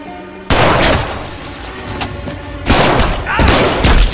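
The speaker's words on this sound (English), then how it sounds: "Shots fired." Burst of several loud, close gunshots fired during a tense armed confrontation, sharp cracks in quick succession with booming echoes and a second cluster near the end.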